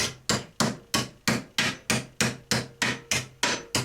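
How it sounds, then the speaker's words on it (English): Twelve sharp, evenly spaced hammer blows ring out as a sheet-metal flange is bent over on a camper van bonnet corner repair, each strike close and crisp with a quick decay. "So I hammered over the flange"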